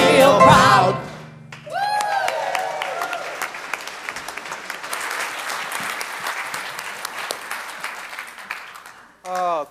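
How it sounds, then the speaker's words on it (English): A church congregation at a Sunday service applauds in a sustained wave of clapping lasting several seconds, preceded by a voice and followed by a brief voice at the end. "Please give an extra round of applause for these amazing people that shared their stories with you."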